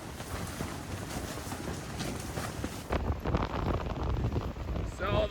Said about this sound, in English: So the wind here is a little bit crazy right now.